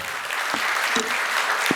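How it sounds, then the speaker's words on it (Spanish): A seminar audience gives a speaker a farewell round of applause, even and continuous for the whole short stretch, with a few louder claps and knocks standing out nearer the listener. "Lo despedimos con un fuerte aplauso, por favor."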